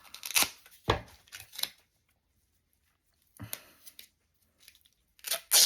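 Craft tape is torn in short bursts for layered textures, several close, crisp ripping strips in two clusters separated by a quiet pause.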